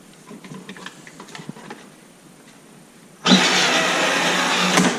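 Red Hummer ride-on toy vehicle starts up after its battery is reconnected, a few quiet clicks and then a sudden steady electric motor whir that runs loud and close to the end.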